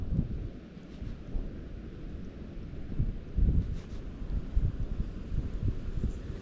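Gusty wind buffets the microphone while perch fishing, producing uneven low rumbling thumps that rise and fall throughout.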